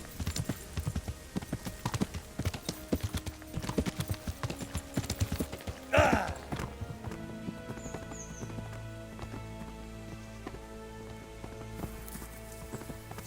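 Steady clip-clopping of horse hooves in Kingdom Come: Deliverance, a quick rhythmic trot with a brief louder burst midway, over a low ambient hum and faint background music.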